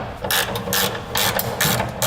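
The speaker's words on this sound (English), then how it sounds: "we'll tighten our side plates for the frame, then our U-bolts" Ratchet wrench tightening side plate and U-bolt hardware on a gooseneck trailer hitch under a 2006 Dodge Ram pickup frame, with rapid clicking pawl bursts in repeated strokes, close and fairly loud, no talking.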